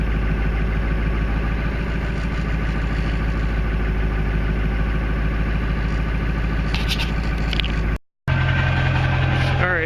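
A diesel engine idles steadily after a cold start with a loud, throbbing exhaust note that runs unbroken, then cuts out briefly before resuming with a slightly changed tone.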